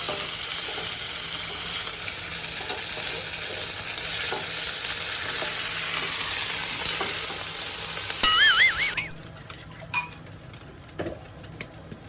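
Shrimp brown in a hot pan with a loud, continuous sizzle while being stirred, then the frying drops off sharply after a brief metallic squeal of utensil against pan, leaving quieter clinks.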